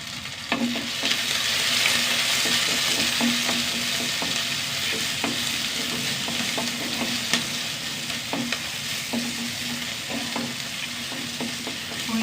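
Small onions and garlic sauté in a hot pan with a steady, close sizzle, punctuated by repeated scraping stirs of a spoon against the pan throughout.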